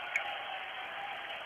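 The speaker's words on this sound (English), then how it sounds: "Coach Travis Smith applauding his team's effort" Steady applause from a high school basketball crowd for the coaching staff, a continuous even wash of clapping with no gaps, at moderate level for about a second and a half.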